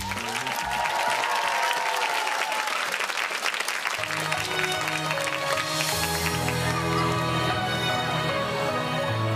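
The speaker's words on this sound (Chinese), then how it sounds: "马上以热烈的掌声欢迎" A studio audience applauds continuously to welcome a singer onto a televised variety show stage, a dense, even clapping that carries on while sustained music rises underneath and takes over.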